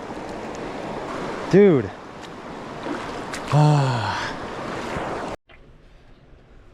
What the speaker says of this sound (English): Got the beautiful river right next to me.